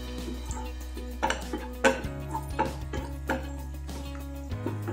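Chopped cabbage stirred in a pan with a spatula, giving a series of close scraping clinks and taps against the metal at an uneven pace, with faint frying underneath.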